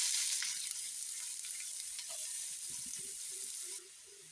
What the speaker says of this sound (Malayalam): ഇതിലേക്ക് കുറച്ച് വെളിച്ചെണ്ണ ഒഴിച്ചു. ഇനി ഇതിലേക്ക് നമുക്ക് ഈ സവാള ഇട്ട് കൊടുക്കാം.